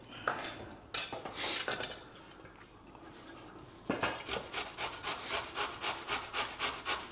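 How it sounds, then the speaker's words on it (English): A courgette is grated by hand against a metal grater, giving a few scattered rasping strokes and then a steady run of quick rhythmic scrapes, close and clear, with no talking. "I'll just get a grater. Or grate courgette."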